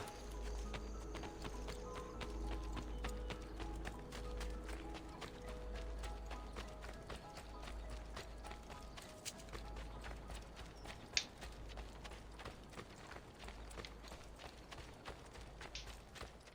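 Horse hooves clip-clop at a steady trotting rhythm in the video game Assassin's Creed Brotherhood, faint and continuous over a low game ambience and soft background music.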